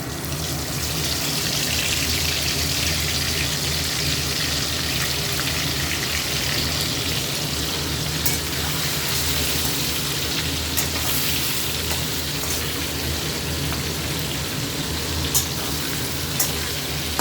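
Chicken pieces lowered into hot oil crackle and sizzle in a steady, dense, close roar that holds for the whole stretch, with occasional louder spits and pops and no voices.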